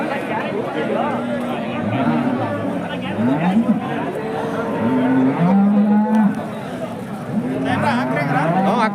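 Indian Hallikar cattle mooing repeatedly at a large livestock fair near a temple in Gubbi taluk, with lowing calls overlapping from several animals amid a steady crowd hubbub and people talking nearby.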